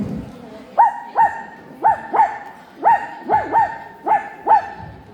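A voice imitates a puppy dog at a talent show, giving about ten short, high yipping barks in an uneven rhythm, each one close and clear over a faint background.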